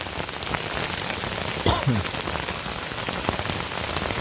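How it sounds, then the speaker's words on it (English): Dense, steady patter of hail pellets drumming on the thin fabric of a Sierra Designs Clip Flashlight 2 tent, close by, with a brief low thump midway. "So the hail's getting bigger."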